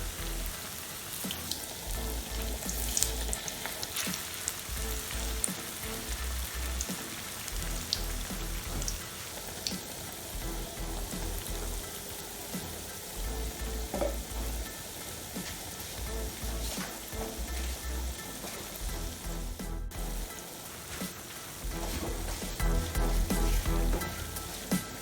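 Ghanaian plantain fritters (kaaklo) deep-fry in oil with a dense, rain-like crackle and hiss that continues evenly, close and without speech.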